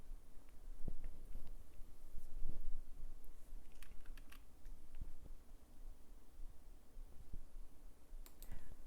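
Rapid, uneven typing on a computer keyboard during a software setup, with clustered key clicks and occasional sharper taps over a steady low room hum, heard close and alone.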